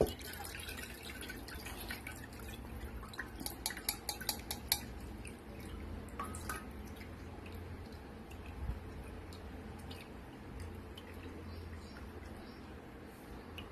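Strained tomato pulp juice dripping down into a vessel while making Telangana-style tomato charu, with soft irregular drips and light clinks of kitchenware that cluster in the first seconds and then thin out.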